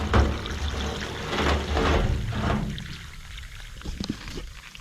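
An acid and water mix is poured into a rusty Mazda RX-7 gas tank, with a steady splashing pour for a few seconds that gives way to quieter trickling and fizzing.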